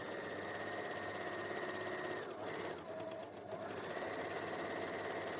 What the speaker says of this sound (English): So you're actually overlocking the elastic to the fabric.